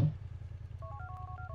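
Telephone dialing tones from a mobile phone in the GTA IV video game, a short run of beeping DTMF keypad tones sounding over a low steady game background hum.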